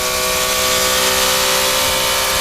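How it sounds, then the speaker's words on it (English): A loud, steady Porsche Supercup race car engine drones at high revs with a harsh, buzzing tone at Indianapolis, sustained without a break. "Listen to that engine note once again."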